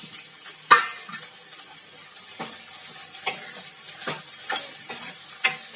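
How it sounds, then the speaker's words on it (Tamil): Boiled vegetables and garlic are stirred in a pan for Tirunelveli sodhi kuzhambu, giving soft, intermittent scrapes and wet shuffling over a low, steady sizzle. "இப்ப நம்ம அவிச்சு வச்சிருக்கிற இந்த காய்கறி எல்லாம் சேர்த்துக்கலாம்"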